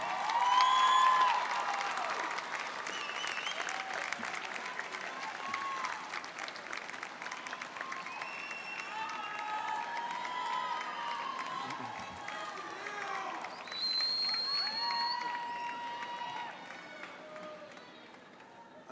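Graduates at a college convocation stand and applaud the audience, a large sustained wash of clapping and cheering across a big hall, with whistles and voices mixed in.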